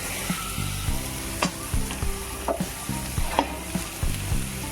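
Chopped onion and chicken pieces frying in butter in a pan for chicken soup, with a steady close sizzle broken by repeated clinks and scrapes of a stirring spoon; no one talks.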